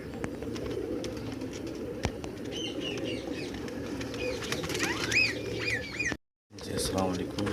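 Pigeons cooing at a busy pigeon market in Multan, soft repeated coos and chirps layered over a constant murmur of crowd noise and background chatter, with a brief dropout near the end.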